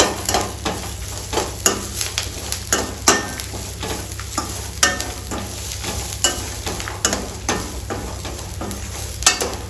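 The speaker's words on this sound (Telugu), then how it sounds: "నేను ఒక గడ్డ అల్లం ఎల్లిగడ్డ పేస్ట్ వేస్తున్నాను" Ginger garlic paste fries in a pan for restaurant-style bhindi fry, giving a loud, crackling sizzle broken by frequent rhythmic stirring clicks and scrapes, close up and with no talking.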